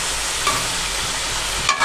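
Garlic ginger paste stir-fries in a karahi with a loud, dense, continuous sizzle, broken by a couple of quick spatula scrapes, close and without speech.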